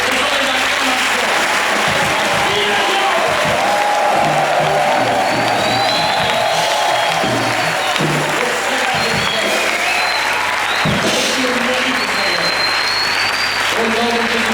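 Sustained applause and acclamation from a church congregation during a Sunday worship service, loud and dense throughout with cheers and whoops rising over the clapping and scattered voices mixed in.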